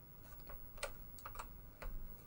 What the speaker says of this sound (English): I've forgotten how to use this darn keyboard.